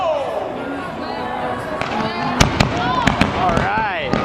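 Fireworks burst in a string of sharp, loud cracks and pops after a rushing launch hiss, heard close by at an outdoor New Year's Eve display, with people's voices mixed in.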